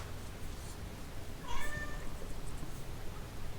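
Cats meow at feeding time in a kitchen, a single short rising mew standing out faintly over a steady background hum, with no talking.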